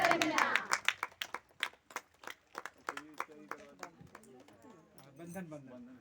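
Villagers at a water festival in Ghaghari village clap in a sharp, rhythmic beat alongside chanting voices, the claps loud and close at first, then thinning and fading toward the end.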